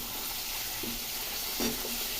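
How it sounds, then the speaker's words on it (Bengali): Potatoes fry in a pan with a steady, close sizzle, and a couple of brief stirring scrapes rise above it near the end, with no talking. "এর মধ্যে আলু টালুগুলো সব ভেজে নিই"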